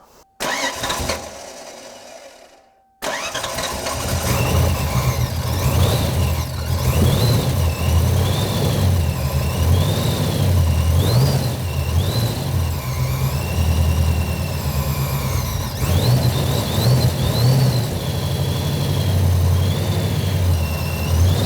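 A 1993 Ford Mustang Cobra cranks over for a moment, falls quiet, then catches and settles into a loud, steady running idle with a rough, uneven rumble that carries on alone.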